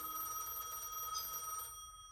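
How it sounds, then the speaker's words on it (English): A telephone rings inside the Gas Station Simulator game, a steady electronic bell tone repeating for about two seconds before cutting off, moderately loud with no voices over it. "Telephone is ringing again."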